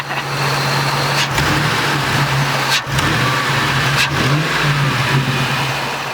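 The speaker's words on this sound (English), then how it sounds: "that's a big V8" A big V8 truck engine holds a loud, close, rough rumble, rising in a few revving swells with brief dips between them, and no voices over it.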